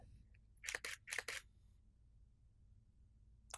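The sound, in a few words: DSLR camera shutter at slow 1/10 speed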